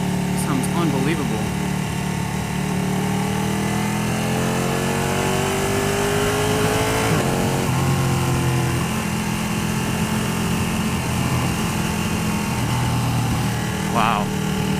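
A Ducati 1299 Panigale S motorcycle engine revs up and falls back in several sweeps, loud and close, with a steady high engine drone throughout.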